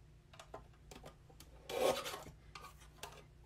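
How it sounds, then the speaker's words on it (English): Small portable paper trimmer cutting card for a Christmas card, a few light scrapes and ticks with one longer rasping slide of the blade, close and quiet with no talking. "So I'll get my little trimmer, portable trimmer."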